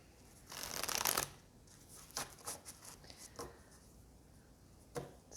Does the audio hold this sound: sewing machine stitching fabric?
no